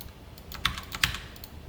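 Computer keyboard typing during a login, a few quick close keystrokes with clicks spaced irregularly over a quiet background.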